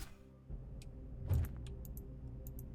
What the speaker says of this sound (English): Let's get our vehicle out.